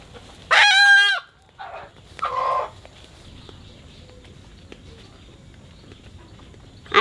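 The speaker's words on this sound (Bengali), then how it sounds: "এই যেন খাঁটি দেশি মোরগ।" A country rooster crows once loudly and nearby, a long harmonic call, followed by a shorter second call and then quiet farmyard background.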